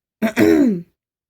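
A single short throat clearing, a quick rough burst followed by a longer voiced rasp, close and loud, then silence.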